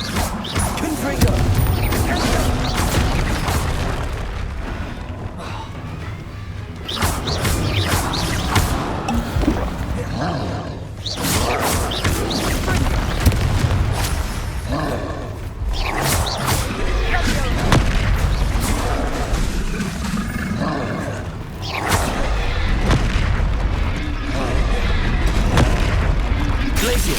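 Repeated booming spell blasts from the Confringo fire curse in the video game Hogwarts Legacy, loud and continuous over a dense battle din with overlapping impacts and music.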